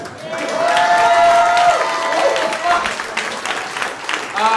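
Audience applause at Go Bananas Comedy Club, with steady clapping and some cheering under an emcee who talks loudly over it the whole time.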